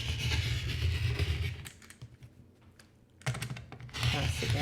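Rotary cutter trimming the last edge of a jelly roll quilt block on a cutting mat, heard as steady rasping, scraping cuts close by, with a brief quieter pause midway before the scraping resumes.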